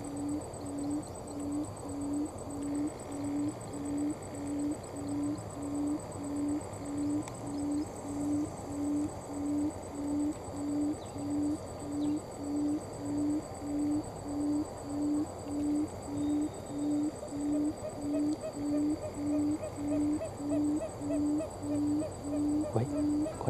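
A male wild quail calls near a decoy trap in rural Vietnam, a regular series of short, evenly spaced hooting notes repeating about once a second for over twenty seconds, moderately close with faint background hum.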